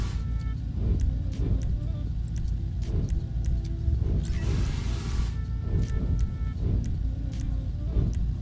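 A Bugatti Chiron in FiveM runs with a V8 engine note, a low, steady growl that swells in repeated rev pulses and brief surges, close and loud.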